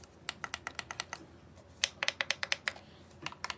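Buttons on Simagic GT Neo and FX-C sim racing wheels clicking in quick, crisp, evenly spaced runs, soft but distinctly clicky and close, with no voices.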